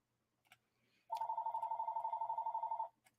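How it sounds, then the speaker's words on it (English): A telephone rings indoors with a rapid trilling electronic bell, one sustained burst of about two seconds after a moment of quiet, fairly close and clear, with no talk. "Shut up, phone. We don't answer you."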